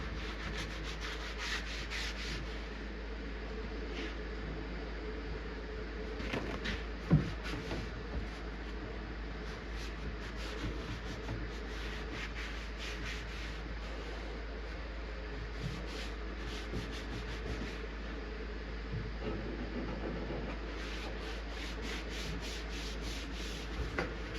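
A sponge scrubs an arcade cabinet in a steady, continuous rubbing wash that runs for the whole stretch, close and fairly even, with a low constant hum underneath and no talking.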